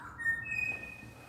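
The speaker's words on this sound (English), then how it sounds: "Where's that bird?" Inside an old church steeple, a bird gives a faint, thin whistling call with a sustained high tone, heard at a distance in a quiet, echoing space.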